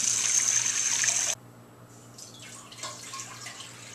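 Water streaming steadily into a cooking pot to make rice, a bright continuous pour that cuts off abruptly after about a second and a half, followed by quiet kitchen handling sounds.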